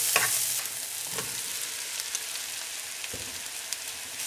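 Soya chunks fry alongside browned onions in a pan, a steady sizzle broken by a few distinct scrapes and knocks of a spoon stirring. The sound is moderately close and no one speaks.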